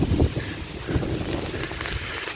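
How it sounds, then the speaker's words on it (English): Strong wind blows outdoors in steady broadband gusts, with buffeting rumble against the microphone throughout and a slightly stronger burst at the start. "Really windy."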